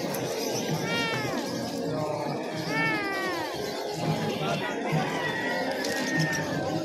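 A cat meows repeatedly at a pet market, a few drawn-out, wavering cries close by, with people chatting in the background.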